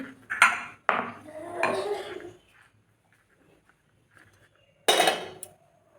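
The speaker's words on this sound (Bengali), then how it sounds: "ঢাকাটা একটু দিয়ে দিই" A metal lid set onto a pot of green tea, several sharp clanks and scraping rattles of cookware, then a quiet pause and one final loud clatter; no speech.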